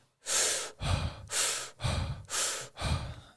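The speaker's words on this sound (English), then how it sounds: "It's like some quicker breaths." Six quick, forceful breaths for energy alternate sharp inhales and exhales in an even, rapid rhythm, close and clear with no talking.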